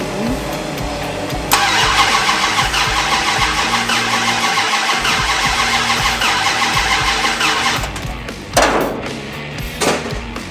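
A car engine cranks and fires right after a camshaft install, catching into a steady, fairly loud idle that runs on for several seconds with a couple of brief revs near the end; no talk.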